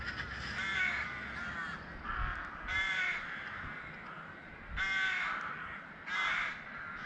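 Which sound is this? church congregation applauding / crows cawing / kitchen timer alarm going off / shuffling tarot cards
crows cawing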